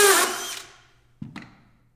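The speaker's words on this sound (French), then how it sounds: "je vais placer ma vis à l'intérieur" Power drill driving a screw into wood wall framing: a loud whirring burst that fades out, then after a short pause a brief second spin of the drill.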